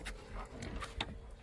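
Dogs on a family farm pant and whimper softly and close by, a few brief whines rising over steady breathing with no talk.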